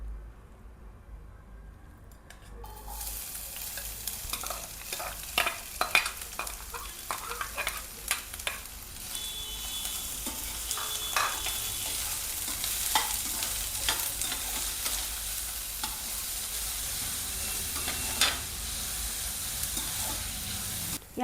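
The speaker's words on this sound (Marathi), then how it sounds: "कांदा फ्राय करण्यासाठी तेल घेऊ" Finely chopped onions frying in hot oil, a steady close sizzle and hiss with occasional stirring scrapes, no talking.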